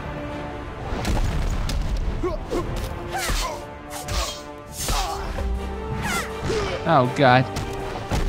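Whooshing strikes and heavy booming impacts from a shadow attack in the fighting game Shadow Fight 3 hit in quick bursts, with a player's excited voice cutting in between the blows.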